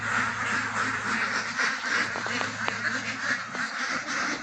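Energetic farm ducks crowd around a water tank, quacking in a dense, steady chorus up close, with a few sharp knocks in the middle and a low hum beneath.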